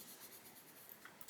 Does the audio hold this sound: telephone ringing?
no